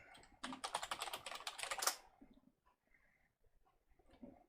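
Rapid typing on a computer keyboard while entering a Linux terminal command, a dense run of close, crisp keystrokes for about two seconds, then a few sparse taps and faint room noise.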